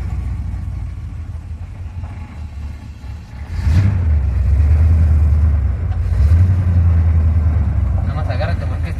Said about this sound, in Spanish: Vean al llavazo y se oye el motor